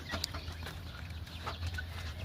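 Chickens on a poultry farm clucking softly in short scattered calls, faint and somewhat distant over a low steady hum.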